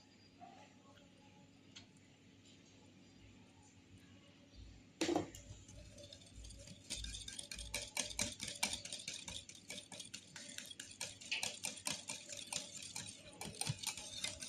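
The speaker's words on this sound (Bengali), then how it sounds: "মিশ্রণটা ক্লকওয়াইজ ঘোরাবো, এলোমেলো করে ঘোরালে কেকটা ভালো হবে না।" Cake batter is stirred clockwise in a bowl, giving a steady run of quick, faint clicking and scraping strokes that grows busier partway through, recorded close.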